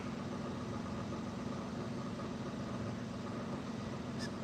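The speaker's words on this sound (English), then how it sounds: "the engine we need to warm up a little bit more in order to check the oil level" A 2015 Mini F56 engine idles steadily while warming up, giving a continuous low rumble and hum with no talking.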